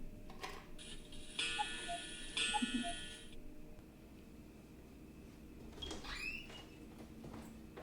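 An antique clock ticking steadily indoors, fairly faint, with a brief mechanical whirring passage partway through and a few soft knocks.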